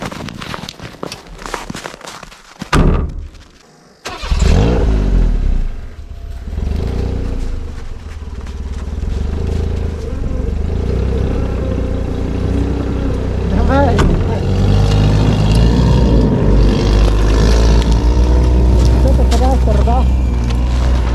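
A new Karakat all-terrain vehicle drives off along a taiga trapping trail. After a few sharp knocks, its engine starts and builds into a loud, rising drone that holds close and steady, and voices speak intermittently over it.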